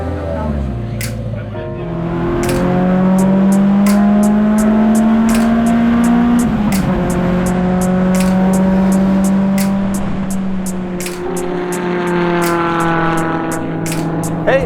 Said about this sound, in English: I just got to do some test laps in the EMR2 here at Barber Motorsports, which is an awesome track